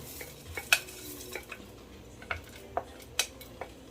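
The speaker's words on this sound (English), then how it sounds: "now I'm going to add my lentils." Rinsed lentils tipped into a cooking pot for a lentil bolognese, heard as scattered soft clatters and sharp utensil clinks against the pot over a faint background, without speech.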